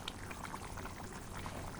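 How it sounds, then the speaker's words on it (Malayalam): Coconut-roasted fish curry boils in a pot, a faint, continuous bubbling and gentle plopping heard up close without talk. "മീൻകറി തിളച്ചുകൊണ്ടിരിക്കുക അല്ലേ."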